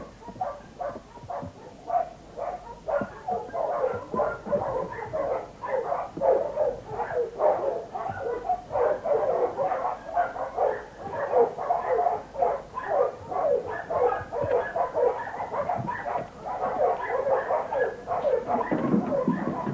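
A pack of farm dogs at feeding time barks, yips and whines without pause, a dense overlapping chorus of several dogs close by with a few louder yelps near the end.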